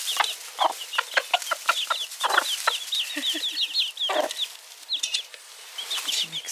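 Young chickens near a scattered handful of feed make a busy stream of high, short peeping clucks, many overlapping calls in quick irregular bursts with no talk over them.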